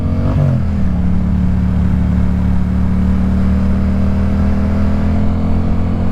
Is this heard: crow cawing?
no